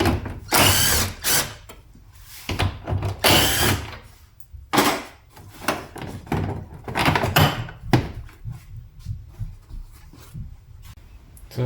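A power tool whirs in repeated short bursts, loud and close, while covers are taken off a Mazda 323 engine, with clunks and rattles of parts between runs.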